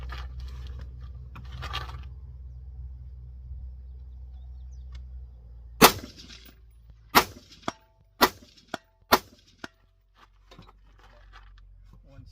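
AR-15 rifle shots fired at targets roughly 175 to 400 yards away outdoors, about five or six sharp loud cracks in an uneven sequence over a few seconds, following a quieter stretch of low rumble and faint handling noise.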